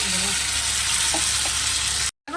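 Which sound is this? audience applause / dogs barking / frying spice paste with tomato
frying spice paste with tomato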